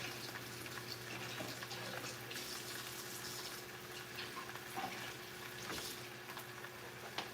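Blueberries are rinsed under a running kitchen tap, a faint, continuous splash and hiss of flowing water with small irregular spatters.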